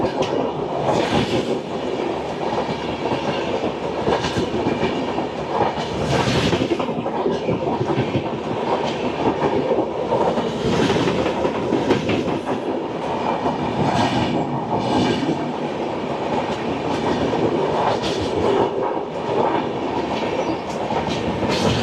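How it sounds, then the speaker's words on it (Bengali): Tripura Sundari Express, a long-distance Indian passenger train from Ferozepur Cantonment to Agartala, rolls past a stopped train, with a steady loud rumble and rhythmic clickety-clack of wheels over rail joints throughout. "এবার আমাদের পাস করবে ট্রেন নাম্বার 14620 ফিরোজপুর ক্যান্টনমেন্ট থেকে আগরতলা"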